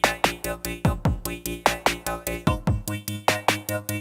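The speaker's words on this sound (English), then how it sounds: "The PO-35 actually just has a plain stutter effect." A Pocket Operator PO-35 synth pattern is chopped by its stutter effect into rapid, rhythmic stuttering bursts, each hit cutting off sharply in a fast, regular gated pulse.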